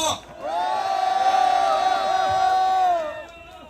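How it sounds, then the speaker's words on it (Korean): A crowd at a student rally on a university campus in Gyeongsan lets out a loud, sustained cheer with whoops and shouting that swells for about three seconds before fading. "힘찬 박수로 맞이해 주시기 바랍니다"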